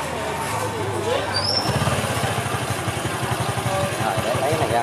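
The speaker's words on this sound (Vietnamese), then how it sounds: "Bây giờ mình để mình nổ máy lại thử coi xem nó có thay đổi gì không mọi người." A Honda Future Neo FI motorcycle with a faulty ECM that keeps stalling is restarted; the engine catches partway through and settles into a loud, close, steady rapid idle thump.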